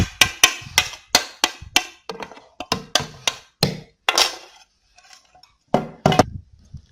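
Spiced potato stuffing for paratha mixed by hand in a bowl with salt, red and green chilli, dried coriander, garam masala and ajwain, giving a run of sharp clinks and knocks against the dish, then a pause and a final cluster.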